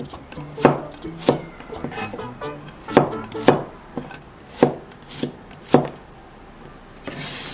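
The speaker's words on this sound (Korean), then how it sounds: "마늘 9개. 이렇게 편 썰어주세요." Knife slicing garlic cloves into thin slices on a cutting board, a series of distinct sharp chops at an uneven rhythm, close and alone.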